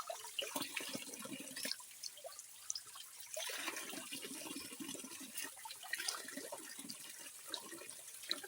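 A flowing creek where drinking water is drawn, an outdoor trickle and gurgle of water with steady broadband rush and fluctuating splashes, fairly quiet with no talk.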